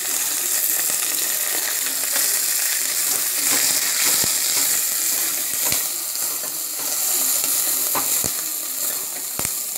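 Onions frying in a pan for sambar rice, a loud, dense and continuous sizzle with a few sharp spoon knocks scattered through it.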